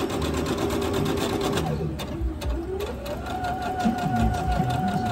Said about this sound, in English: make sure at the beginning of each one of your yard panels that you are backstitching